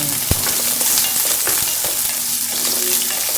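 Onions fry in a hot pan for chicken with tomatoes, a loud, dense sizzle up close, with a sharp knock of the spoon near the start and softer stirring taps after it.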